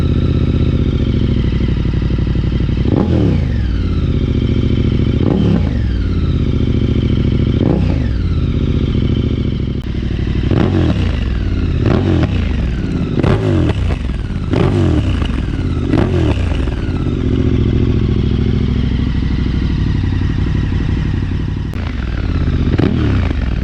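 KTM 1290 Super Adventure R motorcycle exhaust, close and loud, revved in repeated sharp blips over a steady idle, with a clattering mechanical edge and no talking.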